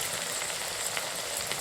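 Small heart-shaped singaras fry on their second side in hot oil, giving a continuous close sizzle with fine crackles and no speech.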